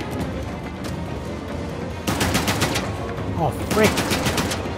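Rapid bursts of automatic gunfire in Uncharted: The Lost Legacy, loud and dense with repeated volleys swelling in the second half, over steady battle noise while a player briefly exclaims.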